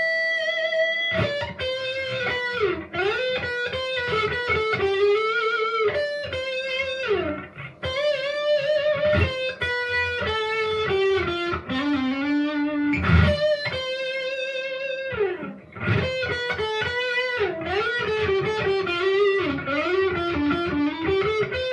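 Overdriven electric guitar played through a Blackstar ID260TVP amp with a blues crunch, loud sustained bent notes and melodic lead phrases with brief pauses, played alone without talk.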